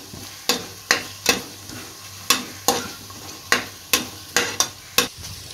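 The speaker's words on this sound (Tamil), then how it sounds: "இப்போ கொஞ்சம் ரம்ப இலையில் சேர்த்துக்கலாம். நல்லா வதக்கி விட்டுருவோம்." Pandan leaves sautéing in a pan for ghee rice, a soft frying hiss underneath sharp, regular scrapes and taps of a spatula stirring against the pan, about two per second, close and clear with no talking.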